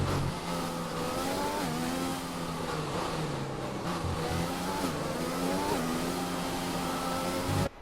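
A loud Formula 1 car engine in the game F1 20 revs steadily at high pitch during the French Grand Prix, rising and falling through gear changes, close and continuous, then cuts off abruptly.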